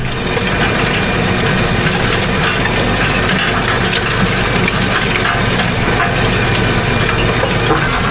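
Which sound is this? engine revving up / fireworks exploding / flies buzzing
engine revving up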